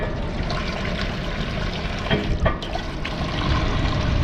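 Water running from a free public drinking tap in a park in Guildford, England, a steady splashing flow with a brief louder gush midway, heard close with outdoor background.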